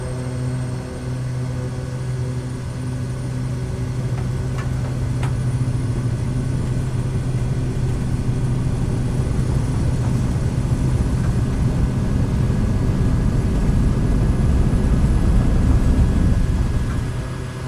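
A propeller airplane accelerates down runway 180 in Microsoft Flight Simulator, in Patagonia, its steady engine drone holding loud and constant while a broad rushing roar builds toward the end.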